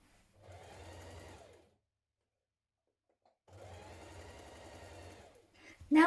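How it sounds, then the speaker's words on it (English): A sewing machine stitches a seam on a long coat in two bursts of about a second and a half each, separated by a quiet pause, the motor's steady whirr close and clear, followed by a short rattling sound. "we're going to stitch that seam again to reinforce it"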